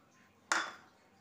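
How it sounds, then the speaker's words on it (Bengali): A sudden loud sizzling splash as sour water hits a hot pan of cooking eggplant, sharp onset then quickly fading hiss, alone and close. "এবার দেবো টক জলটা"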